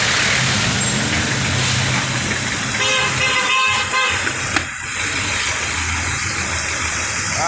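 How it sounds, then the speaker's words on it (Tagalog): Vehicles rumble and hiss past on a wet road, with a brief horn toot in the middle, all under steady background noise. "Ayan, traffic na o."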